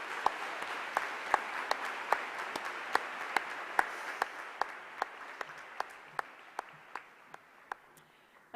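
A graduation audience applauds class 13G, a steady wash of many hands clapping with sharp individual claps standing out in a regular rhythm, fading gradually over several seconds.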